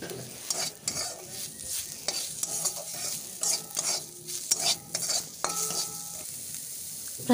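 Bean leaves fry dry in a pan with turmeric powder and salt. A spatula scrapes and stirs in repeated rhythmic strokes with faint metallic ringing over a soft sizzle, close up and without speech.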